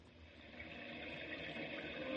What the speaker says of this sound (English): Goodness, isn't it pouring rain?